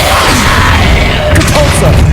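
An Incendio fire spell in the Hogwarts Legacy video game erupts as a loud, dense whooshing roar, with a few sharper crackles near the end.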